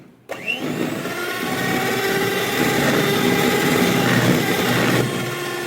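An electric hand beater whirs steadily through cake batter just after oil is poured in, a continuous high motor drone lasting several seconds before cutting out, loud and close with no talk.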